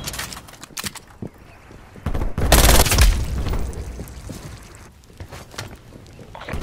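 Sentry turret gunfire in a video game: scattered sharp shots, then a loud dense burst of fire lasting about a second, followed by fading rumble and further intermittent cracks.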